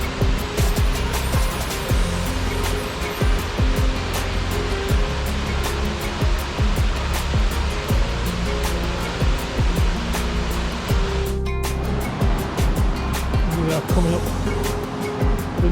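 The Hareshaw Linn waterfall and its stream give a loud, continuous roar of rushing, crashing water close by. It never lets up across the whole stretch.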